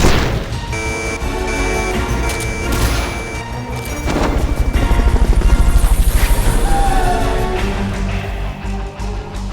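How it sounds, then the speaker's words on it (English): A helicopter in the video game Metal Gear Solid Peace Walker thrums close and loud over game music and effects, its rotor beat strongest in the middle before easing, with a few sharp impacts early on. "Fulton recovery helicopter is complete."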